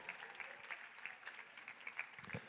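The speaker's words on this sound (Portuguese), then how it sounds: "Muito legal, uma salva de palmas para a Isa." A church audience gives a quiet round of applause for a state show-jumping champion, a soft, patter of clapping, steady and distant throughout.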